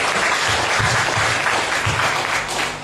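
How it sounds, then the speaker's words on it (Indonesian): Church seminar audience in Timor-Leste claps loudly and steadily, a dense continuous burst of applause that fades slightly at the end. "Berikan dulu tepuk tangan bagi Tuhan Yesus."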